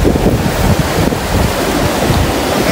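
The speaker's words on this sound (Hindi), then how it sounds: "देख लो पानी का बहाव कितना लेवल का पड़ा है।" River water flows in the Swat valley of Pakistan, a steady, broad rushing roar with no breaks, close and fairly loud, mixed with some wind buffeting the microphone and no voices.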